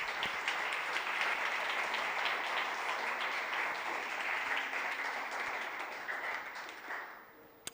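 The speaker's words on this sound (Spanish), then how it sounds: "¿Le quieres dar un aplauso a la palabra?" A church congregation breaks into sustained applause, a dense wash of many hands clapping that holds steady for several seconds before thinning out at the end.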